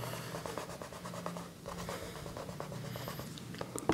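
Physics and math equations being written by hand, with a pen or marker scratching steadily in short strokes and taps, close and fairly quiet, with no talking.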